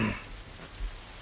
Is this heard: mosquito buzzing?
no